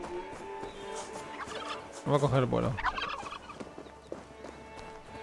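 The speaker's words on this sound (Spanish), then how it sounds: "Eso es un pavo real, tío." A peacock in the Assassin's Creed Valhalla game lets out a loud, honking series of gobbling calls mid-clip over quiet game ambience, while someone speaks Spanish.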